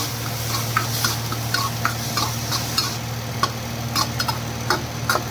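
Chana dal sizzles steadily in a hot pan, with light crackles and occasional stirring scrapes over a low background hum.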